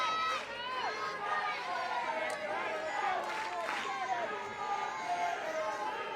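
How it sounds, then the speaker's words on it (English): Near-capacity crowd at an NCAA college softball stadium, Florida versus Tennessee, gives off a steady hum of chatter and scattered cheering voices, with no single voice standing out. "This crowd trying to do its part."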